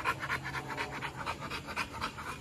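A Rottweiler pants close by in quick, rhythmic breaths, steady and fairly soft for a couple of seconds.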